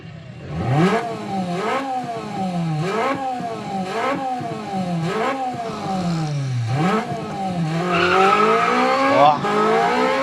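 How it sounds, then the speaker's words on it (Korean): An Alfa Romeo engine in the racing game Assetto Corsa Rally revs hard and loud, climbing through repeated gear changes with sweeping pitch rises and drops, and a tire squeal creeps in near the end. "사운드를 옛날에 참 잘 만들던 차 중에 하나가 또 알파 로메오죠."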